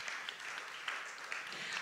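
An audience at a televised dance competition applauds with dense, continuous clapping that holds evenly from start to end at moderate distance.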